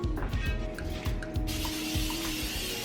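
Non-stick cooking spray hissing onto a cast iron skillet, a steady broadband spray starting partway through and continuing to the end, close by with light kitchen clatter before it.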